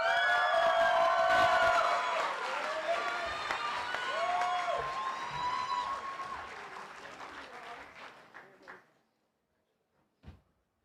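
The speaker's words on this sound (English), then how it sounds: "Let's give an extra round of applause for Nea Portillo." A high school graduation audience breaks into loud, sustained applause with some cheers, gradually thinning out and fading to silence, followed by a single faint knock.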